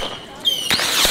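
Fourth of July fireworks in Houston, Texas: a rising whistle followed by sharp, loud cracking bursts, heard close and outdoors.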